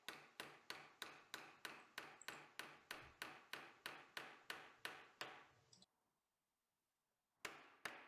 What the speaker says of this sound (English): and then hammer in the nail.